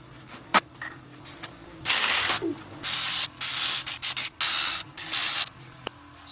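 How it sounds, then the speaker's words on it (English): Short hissing bursts from a spray can or spray gun coat the engine of a Holden GTSR W1 muscle car, about six close, loud sprays of varying length with quiet gaps and a few faint clicks, no voices. "let's paint a motor"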